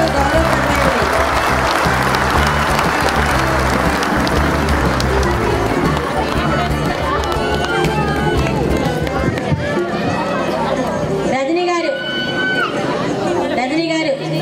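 Sustained loud clapping from an audience at a Women's Day felicitation ceremony, with voices and crowd chatter running through it.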